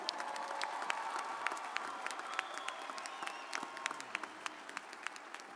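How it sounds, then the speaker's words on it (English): Soft, distant applause from a crowd at a high school graduation ceremony, a steady patter of clapping with a few sharper claps standing out, fairly quiet throughout. "we ask that you moderate your applause until the completion of the ceremony"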